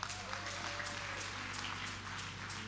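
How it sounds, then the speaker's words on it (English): A church congregation claps hands, a soft, steady wash of applause heard from some distance, continuous and fairly quiet throughout, with a low hum beneath. "Give the Lord a mighty hand clap."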